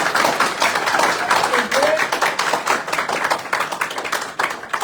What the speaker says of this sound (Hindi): तो इनके लिए ताली नहीं होनी चाहिए हमारी।